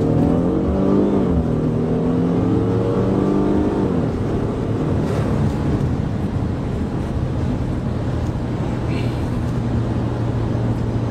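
A car pulls away slowly in first gear from a stop on a wet road, its engine note climbing for about four seconds before settling into a steady drone, with wind noise throughout.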